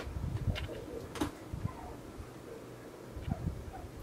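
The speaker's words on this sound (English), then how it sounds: "if you hear the dog crying in the background" A dog whines and cries in soft, cooing bursts, faint against a quiet room, with a few louder yelps near the start and end.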